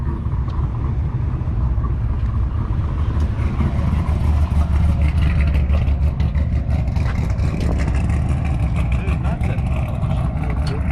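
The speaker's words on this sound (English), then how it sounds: "Simply back the truck up on these big ramps." A 730hp C10 truck's engine idling and rumbling loudly as it backs up onto ramps, a deep continuous throb with faint background voices.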